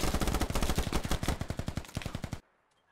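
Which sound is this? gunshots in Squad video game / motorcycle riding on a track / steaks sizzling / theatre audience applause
gunshots in Squad video game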